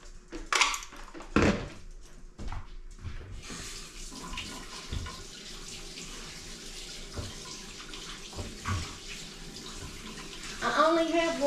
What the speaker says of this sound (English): I'm gonna wash my hands, and I'm gonna wash these beaters for just a minute